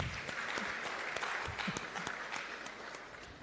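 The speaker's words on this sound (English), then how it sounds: "give them a round of applause for me" A round of applause from the audience at a public sector launch event, greeting a guest speaker: scattered, fairly quiet clapping with individual claps standing out, fading slightly toward the end.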